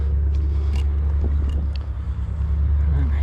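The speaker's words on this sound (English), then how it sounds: "You can hear the freeway right outside." Steady low rumble of freeway traffic right outside, a constant dense drone of passing vehicles at moderate distance with no talking over it.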